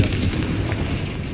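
Confringo fire blast spell going off in the Hogwarts Legacy game, a heavy booming explosion with a thick low rumble and crackling tail, loud and close over a brief moment.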